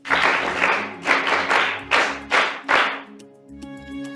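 A group applauds students in a classroom scene, with several bursts of clapping coming in short rhythmic waves before fading, while a sustained musical tone hums underneath.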